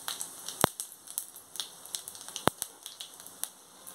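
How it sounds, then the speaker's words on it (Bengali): Dried chilli, panch phoron and nigella seeds sizzle in hot oil with quiet, irregular crackling, scattered small pops and two sharper snaps, all close and soft with no voice. "দেখুন আমার তেল গরম হয়ে গেছে। এবার আমি এর মধ্যে দিচ্ছি একটা শুকনো লঙ্কা, একটু পাঁচফোড়ন, একটু কালো জিরে।"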